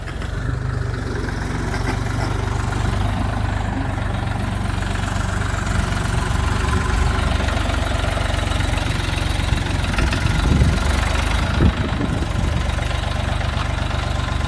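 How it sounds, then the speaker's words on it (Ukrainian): A Dongfeng 244 DL tractor with wide tyres idles nearby, its diesel engine giving a steady low rumbling knock that runs unbroken throughout, with a couple of brief clunks near the end. "Ось зараз відгрузочка 244-го Донфена на широкій резині"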